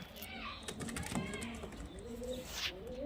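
Kalduma highflyer pigeons cooing close by, soft throaty coos with chirps mixed in, steady through the short stretch alongside a background voice.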